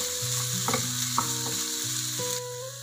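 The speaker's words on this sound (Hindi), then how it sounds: "अच्छे से भूनिए जब तक सॉफ्ट ना हो हमारे जो ये टमाटर है" Tomatoes with salt frying in a pan, a soft sizzle under a series of tonal scraping and clicking sounds, a few sharp knocks of stirring against the pan, fairly quiet.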